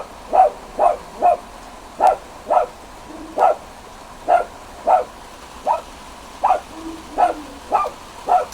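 A dog barks repeatedly in short sharp bursts, about fifteen evenly spaced barks, loud and close, with a quiet indoor background between them.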